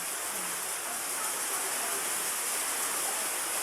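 Steady, dense rain falls outside, a continuous broadband hiss that stays even and fairly close throughout with no voices over it.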